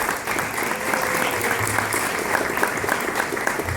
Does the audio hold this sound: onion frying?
no